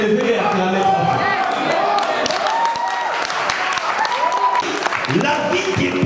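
An audience at a French-language church service applauds and cheers in a sustained wash of clapping, with a preacher speaking over it.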